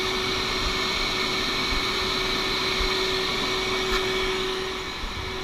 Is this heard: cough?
no